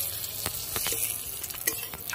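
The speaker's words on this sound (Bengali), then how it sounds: "ফোড়নটা একটু ভালো করে ভেজে নেব।" Cumin seeds, dried red chillies and bay leaves fry in hot oil as a tempering for cabbage ghonto with hilsa fish head. The sizzle is close and steady, broken by a few sharper crackles and stirring scrapes.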